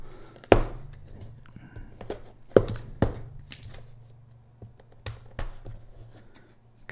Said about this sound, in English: I'm using my Tactile Knife Co. Archer to unbox this